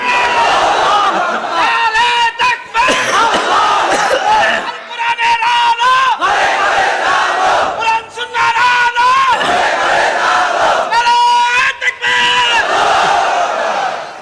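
Large crowd at an Islamic religious gathering repeatedly shouts a chant in unison, loud voices swelling in bursts of several seconds with short gaps between them.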